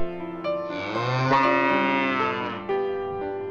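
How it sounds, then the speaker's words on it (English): A cow moos loudly and long, a drawn-out low call that rises and falls, with a second bovine call starting near the end. "I saw cows"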